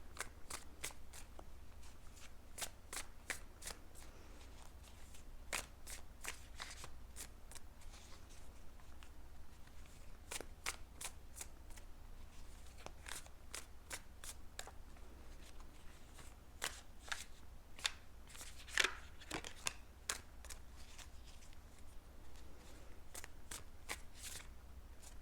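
Tarot cards are shuffled repeatedly in a quiet room, a series of crisp riffling flicks and soft snaps arriving in irregular bursts, faint and close, with a steady low hum underneath.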